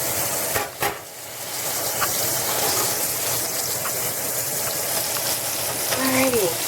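Corn-crusted sardines frying in jalapeno oil give a continuous loud sizzle, with a couple of sharp knocks near the start and a brief squeak toward the end.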